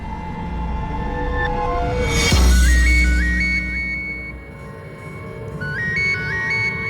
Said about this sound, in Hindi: मेरी वाइफ का फोन।